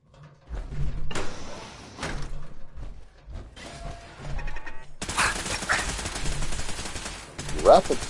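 Gunfire in the video game Fallout 4 comes in bursts of rapid, dense shots. The last few seconds hold a sustained loud volley, with game effects and mechanical sounds between the bursts.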